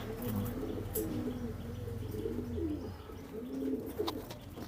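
Indian and Pakistani farm pigeons kept for sale cooing close by in soft, repeated low throaty rolls, with a few faint chirps and rustles around them.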